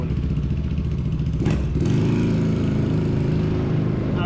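A motor scooter engine runs steadily nearby, giving a continuous, fairly loud drone with a brief rev partway through, heard on its own.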